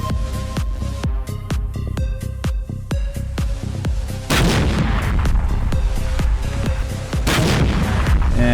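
Rapid gunfire and heavy launches from an Armored Brigade 2 battle, a dense run of sharp reports at first, then a louder, sustained rumble of continuous firing and blasts with no talking.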